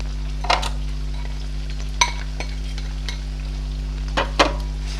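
Two large finely chopped onions fry in masala paste for Lahori mutton karahi, a soft continuous sizzle with a few sharp clinks and scrapes of stirring over a steady low electrical hum.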